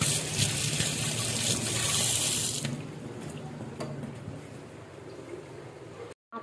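Tap water runs steadily into a sink as tangra fish are rinsed by hand, a close, continuous splashing gush that eases slightly partway through before cutting off briefly near the end.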